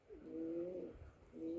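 Pigeon cooing close by in two soft, low rolling calls, the first longer and the second brief, with no other voices.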